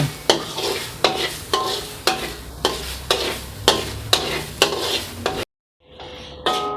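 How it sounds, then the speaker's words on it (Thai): Rice being stirred as it dry-roasts in a pan, a regular series of scraping strokes with a soft sizzle beneath, close and steady, then a brief silence and a final clatter; no talk. "ใส่ ข้าวลงไป ละคน อย่าให้ไหม้ ต้องคนไปเรื่อยๆนะอย่าหยุดมือ"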